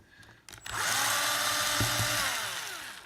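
A power screwdriver whirs up and runs steadily while loosening screws during disassembly of an Unelvent ventilation unit, a loud close whine with a clunk partway through.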